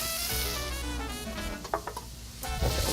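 Butter and brown sugar sizzle and crackle steadily on a hot FireDisc cooker while being stirred, with a few scraping clicks of the utensil near the end.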